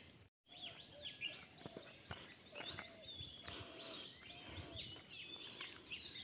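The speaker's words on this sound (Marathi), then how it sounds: "हे बदक्याची पिलं आहे त्यांचा आवाज आहे, त्या पक्ष्यांचा आवाज आहे" At Lonar Lake, faint chirps and high calls from several birds and ducklings overlap continuously, with soft ambient noise and no clear duckling peeps standing out.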